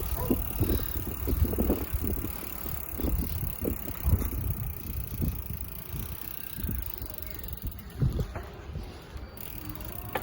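A bicycle rolls along the canal paths of Bangkok, giving steady low rumbling road and wind noise close to the microphone for the whole stretch, with no talking.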